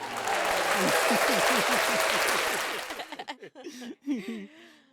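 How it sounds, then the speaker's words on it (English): A small group claps in a podcast studio, a brief burst of applause that fades after a few seconds into people talking. "Round of applause for that one."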